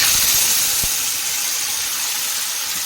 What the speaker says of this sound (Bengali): এবার এই তেলেই আমি দিয়ে দেবো সাদা জিরে। এরপর দিয়ে দেবো আমি বেটে রাখা মশলাটা